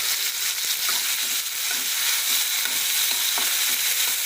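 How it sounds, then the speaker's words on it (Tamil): Tomato, onion and garlic sautéing in a pan with mustard seeds, a steady broadband sizzle running throughout with soft scraping stirs scattered over it, close and fairly loud. "தக்காளி வெங்காயம் பூண்டு நல்லா வதங்குது"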